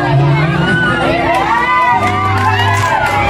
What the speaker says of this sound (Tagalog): Grabe, sigawan yung mga tao.